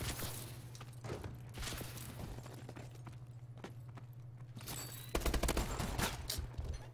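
Rapid bursts of shotgun gunfire in a first-person shooter video game, several sharp close shots over a steady low hum, with a louder cluster of blasts near the end.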